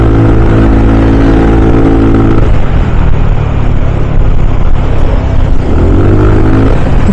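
A Yamaha Mio 125 scooter fitted with a JVT pulley set accelerates on the road, its steady mid-pitched engine drone rising in pitch as it picks up speed, loud and close throughout without talk.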